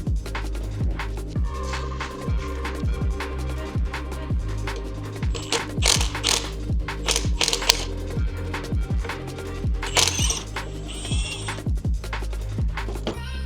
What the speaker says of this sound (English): you're going to unscrew one Phillips head, and then the second Phillips head